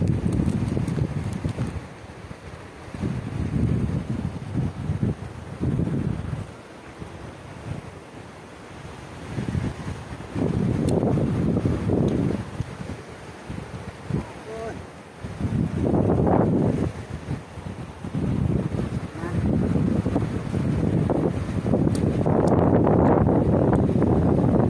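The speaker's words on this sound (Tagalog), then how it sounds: "Ganda ng alon" Sea waves roll in on a Pangasinan beach, rising and falling in repeated loud surges with steady wind buffeting the microphone throughout.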